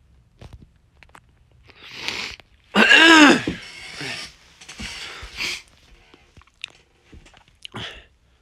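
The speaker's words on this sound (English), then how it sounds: "my apologies for my cough and everything" Someone nearby coughs and clears their throat in a few short, rough bursts, the loudest in the middle, with scattered quieter mouth noises between.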